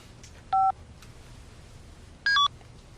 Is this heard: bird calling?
no